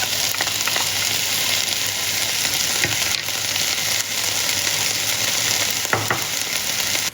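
Cherry tomatoes and onion sizzling loudly in a hot pan for a veggie egg bake, a dense continuous frying crackle with occasional spoon scrapes and knocks as the vegetables are stirred.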